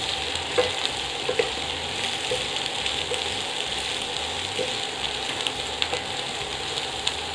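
Snake gourd (podalangai) frying for a Tamil poriyal, sizzling steadily in a pan with intermittent scraping stir strokes, close and fairly quiet, no talking.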